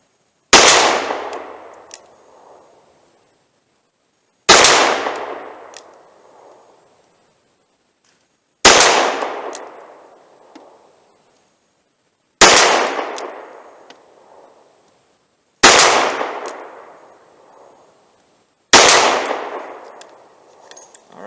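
A .38 Special revolver fires traditionally seated wadcutters at 18 gauge steel targets from 25 yards, six loud, sharp shots spaced about three to four seconds apart, each with a quick ringing decay and no talk between them.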